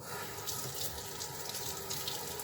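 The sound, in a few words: rinsing a cleaning cloth under a running tap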